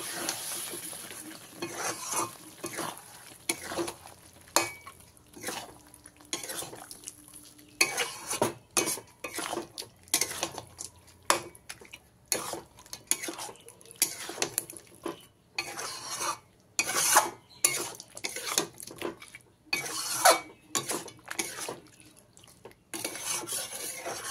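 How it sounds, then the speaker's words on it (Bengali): Yogurt being stirred into chicken in a pan over a low flame, with repeated scraping and clattering strokes of a spatula against the pan over a soft sizzle. "দইটাকে ভালো করে চিকেনের সঙ্গে মিশিয়ে নেব"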